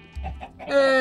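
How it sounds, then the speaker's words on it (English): A Minecraft chicken clucks a few short, close, clipped times, then lets out a brief sustained squawk, with no talking over it. "Chickens!"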